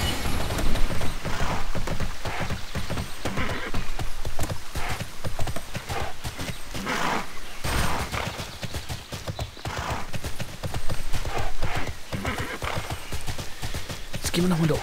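Horse hooves clip-clop steadily and loudly in the Tera Online game, a continuous rapid rhythm with occasional whinnies, while someone talks over it.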